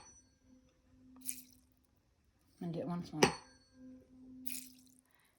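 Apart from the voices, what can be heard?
tuning fork struck to splash water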